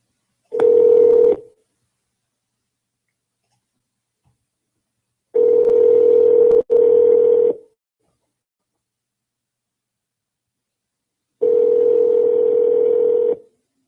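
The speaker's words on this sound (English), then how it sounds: "let's get Kenya on the phone here" Telephone dial tones sound as three steady beeps, each roughly a second or two long, separated by silence with a faint click in the middle one, clean and loud with no talking.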